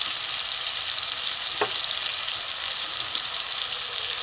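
Spices fry in a pan with tomato, turmeric and chilli powder for chana dal, an even hissing sizzle holding steady, with one brief scrape of a spoon partway through.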